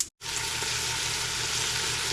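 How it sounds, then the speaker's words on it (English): Ground beef browns in a pot with a continuous sizzle and fine crackle. It begins after a brief silent instant, then holds steady and fairly loud throughout. "We have our ground beef here in the pot. We're gonna go ahead and get that browned off."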